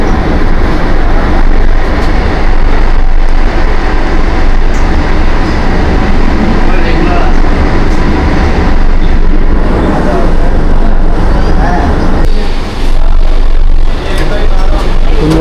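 Kolkata metro train running on the route from the airport, a loud, steady rumble of wheels and carriage noise throughout, with speech over it.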